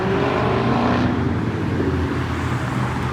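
A Chevrolet Corvette Z06 sweeps past with a loud, steady engine roar that swells in the first second and then eases slightly as it moves on, with no talk over it.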